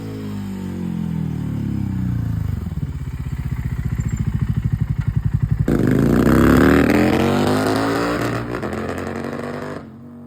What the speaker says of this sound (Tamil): இந்த எக்ஸாஸ்டுடைய சத்தம் கேட்டிங்களா?